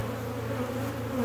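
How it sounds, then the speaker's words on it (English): Swarm of honey bees buzzing densely at a hive, a steady close droning hum with a wavering tone, no voices. "There's a lot of bees."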